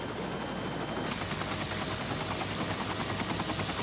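A Care Flight medical helicopter departs from a go-kart accident scene, its rotor producing a loud, steady broadband roar with a faint rhythmic chop that holds throughout without fading.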